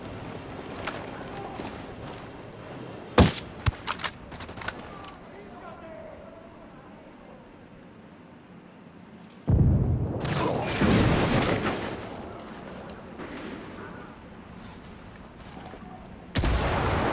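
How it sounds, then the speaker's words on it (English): Bursts of gunfire from a cartel camp firefight in Ghost Recon Wildlands, with sharp loud cracks near the start and heavier sustained volleys later, mixed under spoken voices. "Taking fire from the camp entrance."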